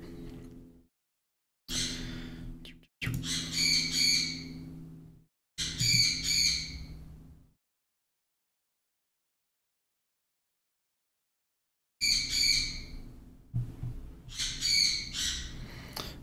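A bird squawks in several harsh, harmonic bursts, close and fairly loud, with long silent gaps between the groups of calls.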